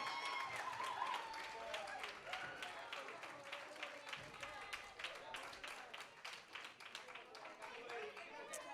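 A crowd claps steadily in a dense patter of applause at a youth bowling championship final, filling a large space, with a voice talking faintly underneath.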